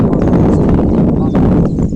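Hooves of a ridden horse clip-clopping in a quick, steady rhythm, loud and close, with no talking.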